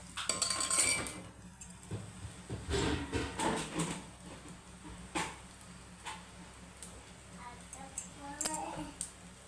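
Drumstick stir-fry is served onto a plate, with metal spoon scrapes and clinks against dishes in a quiet kitchen and soft talk in between.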